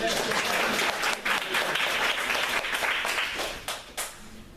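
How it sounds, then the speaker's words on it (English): An audience at a public speaking workshop gives a round of applause, with dense clapping that dips briefly a few times while voices mix in. "Another round of applause."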